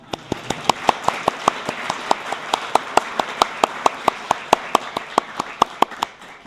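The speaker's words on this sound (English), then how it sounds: "Now you can clap." Steady, rhythmic clapping comes from the audience at the opening of a Winnipeg game jam festival. The claps are evenly spaced and fairly close for several seconds, with faint room noise between them.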